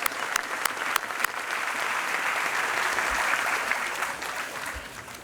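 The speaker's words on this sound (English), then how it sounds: "Let's get a round of applause for Rocky Bayou Christian School." A banquet audience at a school sports scholarship dinner gives sustained applause for a Christian school, dense steady clapping with a few sharper claps at the start and no talk over it.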